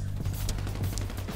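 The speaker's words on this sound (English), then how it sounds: "How many bullets are shooting at me?" Rapid gunfire during a team deathmatch in the video game GTA 5, with sharp bursts of shots over a steady low game rumble in a short, dense stretch.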